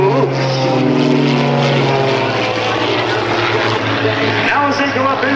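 Iron Eagles aerobatic propeller airplanes performing loops and rolls at the 2010 Greenwood Lake Airshow, a loud steady engine drone with shifting pitch throughout, under an announcer's commentary.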